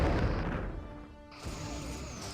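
Torpedo hits in the Star Trek Bridge Commander space combat game land as a loud, rumbling explosion crash that fades, then a second broad blast swells back in.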